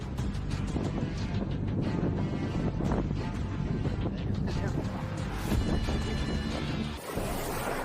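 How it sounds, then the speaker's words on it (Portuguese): Strong wind roars steadily during a tornado, broadband buffeting loud and close throughout, with a gusty surge near the end and a brief dip just before it. "Nesta cena, vemos como o vento forte causa transtornos na área."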